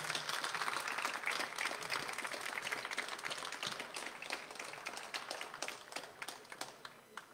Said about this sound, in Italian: Vi chiedo davvero per ognuno di loro un forte applauso